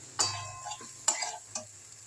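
Eggs stir-fried with spices in a pan: three distinct scraping stir strokes over a low, steady sizzle, close and moderately loud.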